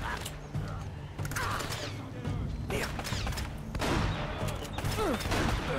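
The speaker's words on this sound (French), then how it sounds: "le fusil à pompe à cette distance, c'est sûr que c'est pas terrible" Shotgun blasts and gunfire in the video game Uncharted: Drake's Fortune Remastered, a busy mix of sharp shots and clattering impacts over continuous game noise.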